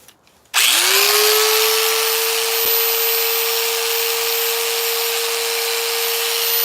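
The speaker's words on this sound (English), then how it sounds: "Sand this baby down." A power sander starts abruptly and runs as a steady, loud, high-pitched whine while sanding a wooden log carving of a teddy bear, continuous and alone with no talking.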